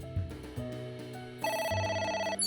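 A phone rings in the video game AI: The Somnium Files, a short electronic ringtone with stepping tones that turn brighter and louder midway, heard alone with no talking.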